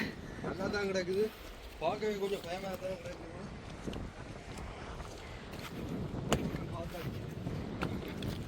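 Strong wind gusts at the seaside in Mayilitti and buffets the microphone in a broad, rough roar, with people talking over the gusts at the start.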